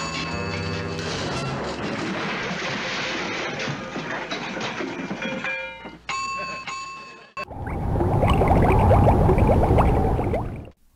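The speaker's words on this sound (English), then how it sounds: "And what's this episode without an exploding robot?" A robot explodes in an episode of the TV sitcom The Munsters. A soundtrack of music and mixed effects gives way to a loud, roaring, crackling blast that lasts about three seconds.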